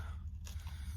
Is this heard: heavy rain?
no